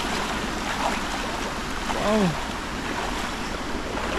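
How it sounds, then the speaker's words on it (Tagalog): A strong current of flowing water rushes steadily and loudly throughout, a broad constant roar; one person briefly exclaims partway through. "Ang lakas ng hagos ng tubig."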